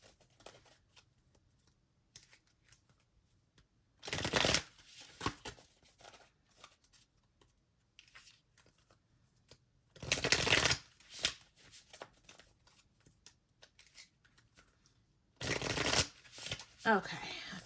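A brand-new deck of cards shuffled in three crisp riffle bursts spaced several seconds apart, close and clear, with quiet handling noise between them.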